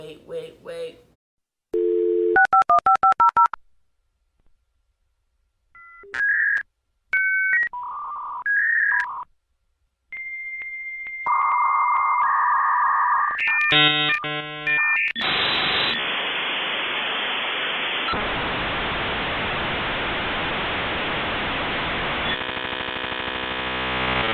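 A dial-up internet modem connects: a burst of touch-tone dialing, then a run of warbling handshake tones and beeps, then loud, steady hissing static that fills the rest of the sequence, with no voices.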